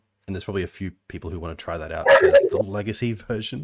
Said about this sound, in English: That dog freaked me out.